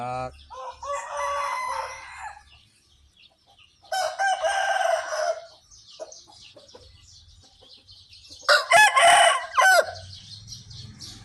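A Burmese fighting rooster crows loudly and close by in three long bursts, with quieter clucking and farmyard rustle in the gaps between them and no voices.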